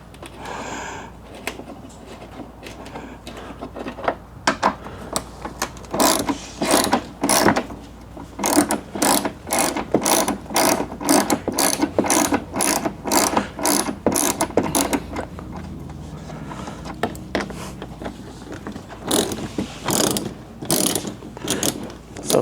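Ratchet clicking in quick rapid bursts while backing out 10 mm screws from a Toyota 4Runner fender, close and sharp, with brief pauses between runs of ratcheting.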